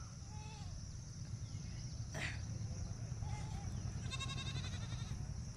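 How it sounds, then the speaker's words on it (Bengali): Grazing goats bleat a few times at a distance over a steady outdoor village hum, with faint birds and insects in the background. "এখানে ছাগলগুলো চড়তে এসছে।"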